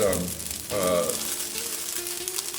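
Cooked fettuccine reheating in a hot pan for Fettuccine Alfredo, a steady close sizzle and crackle with a brief break partway through, running on without talk.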